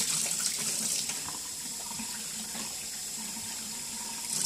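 Water runs steadily from a tap while paint tools are being cleaned, making a continuous hissing splash at moderate volume with small knocks and movement mixed in.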